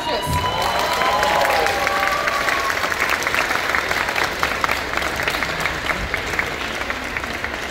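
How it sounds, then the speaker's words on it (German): An audience at the Watercon cosplay contest on the Bremen waterfront in 2023 applauds the judges, a sustained wash of clapping with some cheers and shouts mixed in. "Großen Applaus für unsere Judges."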